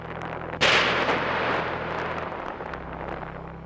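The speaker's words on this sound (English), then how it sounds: "This volcano erupts every few minutes." An active volcano erupts with a sudden sharp boom, followed by a long rumbling roar that slowly fades over a few seconds.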